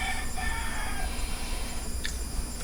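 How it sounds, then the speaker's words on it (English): A rooster crows a drawn-out call in the distance, with a short crackling sound close by, near a campfire. "you gotta hear the rooster now"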